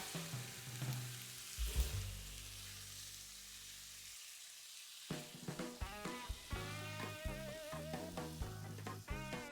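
Cooked tomatoes being stirred into a pan of vegan shrimp saganaki, with soft sizzling and wet stirring strokes under background music, faint and close, the music pausing briefly midway.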